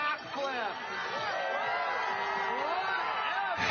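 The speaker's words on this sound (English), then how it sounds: "He's got some people there to cheer him on. Family in the crowd." Family and spectators at a freestyle skiing aerials World Cup final in Lake Placid, a busy crowd murmuring and whooping under a commentator's continuous voice.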